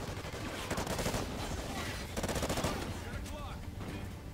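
Rapid bursts of automatic gunfire in the Call of Duty Ghosts video game crackle densely and loudly throughout, with dense layered shots and no pauses.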